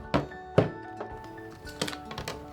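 A die-cutting machine cracks as an acrylic sheet, cardstock and dies roll through it: a few sharp, loud thunks spaced apart, then softer clicks and creaks close by, with no talking.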